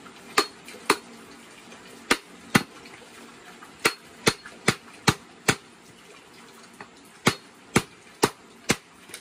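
Cupuaçu fruit being cracked open by hand in the Amazon interior: a series of sharp, hard knocks, about fifteen spread irregularly over several seconds, close and loud over a quiet background.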